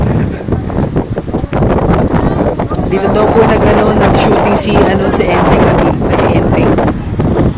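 Strong wind buffets the microphone at the Kapurpurawan stone formation on the Ilocos Norte coast, loud rumbling gusts throughout while a person talks over it.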